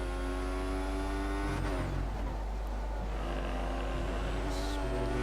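An F1 race car engine screams at high revs in the F1 2014 video game at the Russia circuit, a loud, steady whine that dips briefly on a gear change or braking and then climbs again.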